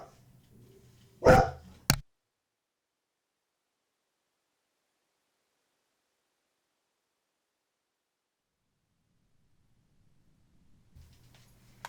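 Dogs bark in the video game Xenogears, a brief loud burst of one or two barks followed by long near-silence.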